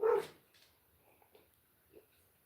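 A dog named Zuma barks outside, one loud sharp bark followed by a few fainter, more distant yips and whimpers against a quiet background.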